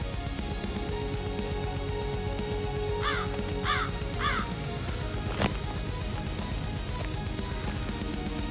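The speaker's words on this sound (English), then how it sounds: "A raven demonstrates how to bury Abel." A raven gives three quick, hoarse caws in a row, fairly faint and set against a steady background of noise, with a single sharp click shortly after.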